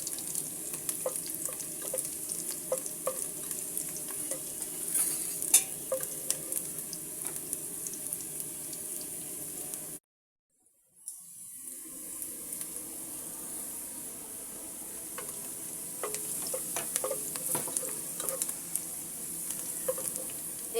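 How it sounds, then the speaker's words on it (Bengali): Onions fry in a pan for a chicken curry, with a steady close sizzle and scattered crackles and scrapes of stirring. The sound cuts out briefly for about a second midway, then the frying carries on. "পেঁয়াজটাকে আমি সুন্দর করে ভেজে নিচ্ছি।"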